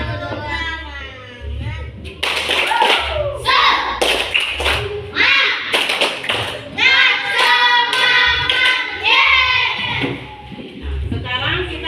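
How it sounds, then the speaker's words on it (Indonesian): A classroom of schoolchildren performs a rhythmic clapping cheer led by their teacher, with bursts of hand claps and thumps in patterned groups between loud chanted voices. "tepuk semangat dulu kan? Tepuk semangat dulu."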